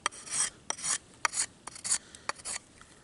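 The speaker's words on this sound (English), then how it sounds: "you want to scrape it from in here," A knife blade scrapes moist wood to shave off tinder, about a dozen short rasping strokes in an uneven rhythm, close and crisp with no talk.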